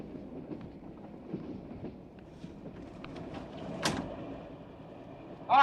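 A train rumbles along rails with faint rhythmic clicks and creaks from the cars, a steady low background that swells briefly with a sharp hiss midway and a louder clatter at the end.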